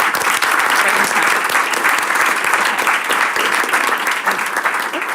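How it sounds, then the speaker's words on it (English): Sustained, dense applause from an audience at a school board meeting, loud and even throughout with a slight tapering at the end. "Another round of applause for the."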